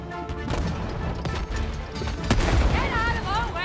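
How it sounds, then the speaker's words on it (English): Cannons fire in It Takes Two, a rapid run of booming blasts over game music and sound effects, with voices talking over parts of it. "They've got cannons, too!"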